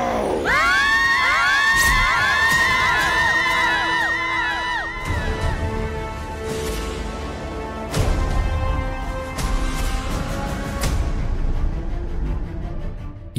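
Several voices shout and wail at once from behind a bolted door, loud and overlapping, with occasional thuds and bangs cutting through the clamour.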